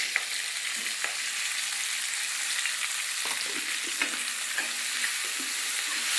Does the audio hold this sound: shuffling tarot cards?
no